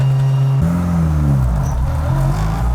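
A Honda Civic Si with a built transmission drives along, its strong low engine drone and gear whine stepping down in pitch as it shifts, loud and close from inside the car.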